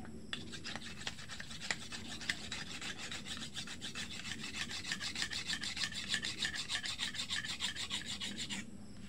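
A bolo knife (itak) being sharpened, heard as a long run of fast, even rasping strokes of the blade, close and steady, speeding into a regular back-and-forth rhythm before stopping.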